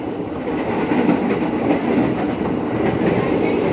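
A former Japanese JR203 commuter car, now unpowered and hauled by a locomotive, rolls along the rails with a steady close rumble and faint rhythmic wheel clatter.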